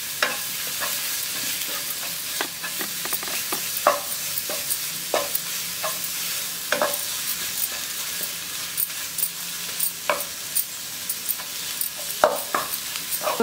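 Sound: stirring and sautéing in a frying pan

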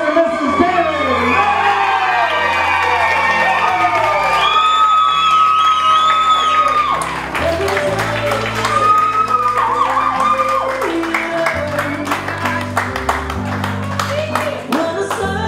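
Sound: wedding guests applauding and cheering the couple

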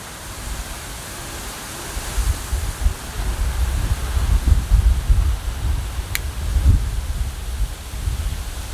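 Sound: strong wind outdoors

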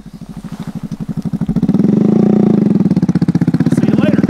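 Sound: motorcycle engine running

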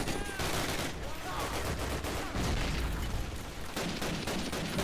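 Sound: MG machine gun firing in the video game Call of Duty: United Offensive

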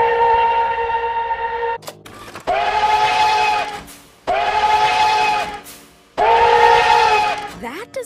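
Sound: NKP 587 steam locomotive cracked whistle

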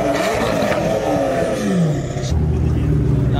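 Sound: McLaren Senna hypercar engine roaring

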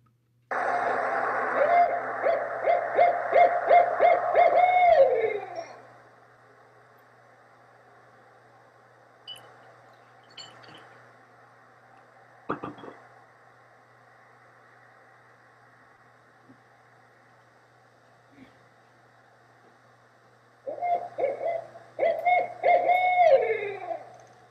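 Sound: barred owl hooting, played recording

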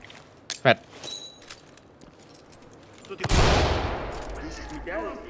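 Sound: gunfire in the video game Ready Or Not

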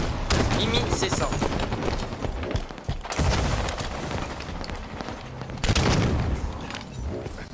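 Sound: gunfire in video game Halo 5

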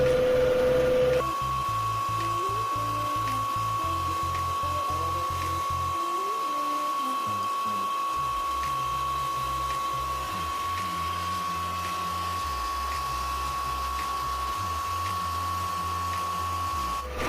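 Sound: water supply motor running

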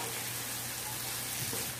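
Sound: stirring tempeh orek frying in a pan

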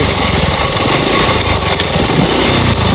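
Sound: car engine running and knocking

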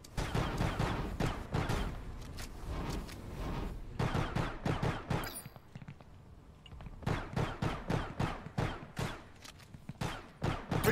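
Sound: gunfire in a video game (Star Atlas)

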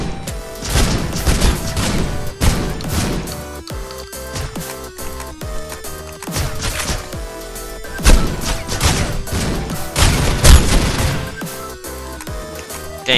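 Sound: shotgun gunfire in video game Critical Ops

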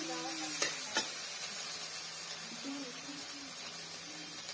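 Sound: ginger garlic cumin paste sizzling and stirred in pan

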